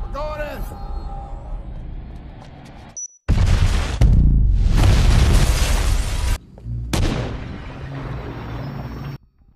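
A bomb blast and gunfire in an action film scene, with heavy booming bursts and roaring debris that break in abruptly, cut out and return, loud and close, mixed with tense film music.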